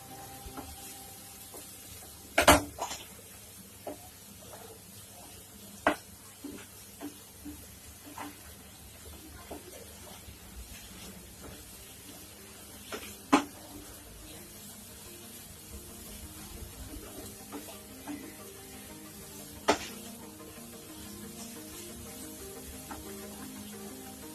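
Eggs for anda bhurji are stirred and cooked in a pan, a faint continuous sizzle broken by scattered sharp utensil taps and scrapes spread across the stretch.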